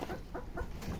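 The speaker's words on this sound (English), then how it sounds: "the chicken" Chickens cluck excitedly over black soldier fly larvae, a faint, busy run of short clucks spread evenly through the moment.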